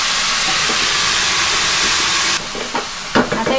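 Methi leaves and masoor sizzle loudly in a hot pan with a steady hissing fry, then a few clinks and scrapes of stirring break in toward the end.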